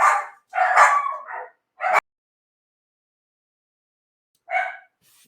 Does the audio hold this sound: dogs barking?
yes